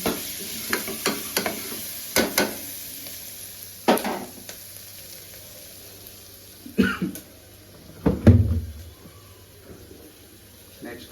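Dal khichdi ingredients frying in a pan with a soft continuous sizzle and intermittent sharp stirring scrapes, plus a cough or throat clearing.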